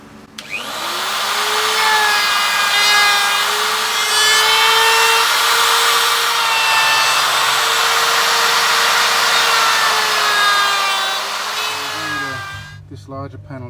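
A router cutting a squared-off corner on a wooden panel gives a loud, steady high whine with a rough cutting hiss that holds for about twelve seconds and then stops abruptly.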